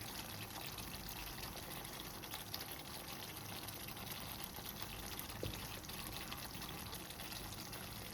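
A small amount of water is poured into a creamy malai chicken curry, making a faint, steady trickle with low background noise throughout and no voices.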